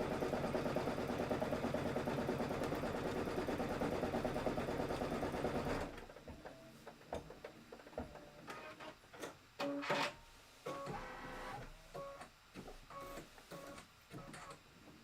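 An embroidery machine stitches a tack-down line on fabric with batting, a fast, steady mechanical chatter for several seconds, then stops, leaving quieter clicks and handling noises.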